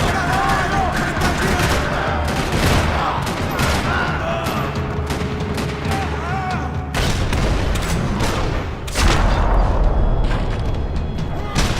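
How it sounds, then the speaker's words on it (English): Dense, rapid gunfire rattles continuously with booming impacts and bursts, loud and chaotic, layered with other battle noise, in a parking lot in the video game Max Payne 3. "Another parking lot rattling with gunfire."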